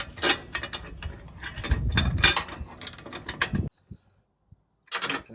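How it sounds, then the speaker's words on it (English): A ratchet tightens a 17 mm nut on an LED driving light mount, giving quick bursts of close clicking ratchet strokes, then a pause with a couple of small knocks and one last short burst of clicks. "you're just gonna install that right like that, and then you just tighten it up."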